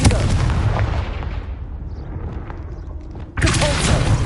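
A Confringo blasting spell explodes in Hogwarts Legacy, a loud, booming blast that rumbles and fades, then a second sharp burst erupts near the end.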